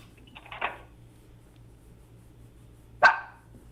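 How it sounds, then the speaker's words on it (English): A dog barks twice, two sharp separated barks about two and a half seconds apart, fairly close and alone over a faint steady hum. "The dog is very upset, clearly."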